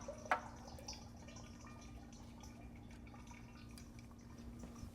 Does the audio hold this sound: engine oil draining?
yes